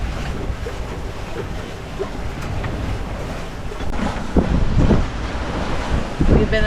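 Steady, loud wind buffeting on a sailboat under way toward land, rushing across the microphone with a constant low roar and surging gusts, mixed with the wash of water along the hull.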